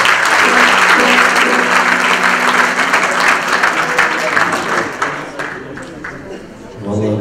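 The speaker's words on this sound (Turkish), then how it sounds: "Bir daha alkışlayalım kendisi." An audience applauds a bağlama saz folk performer, loud continuous clapping with a voice speaking over it, tapering off toward the end before talk resumes.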